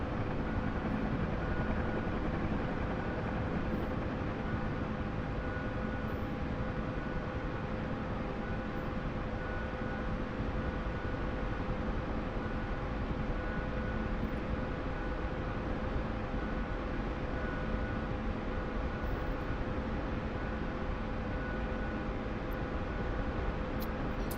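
A Huey helicopter takes off at maximum power, its rotor and turbine roar loud, close and steady for the whole stretch with no voices.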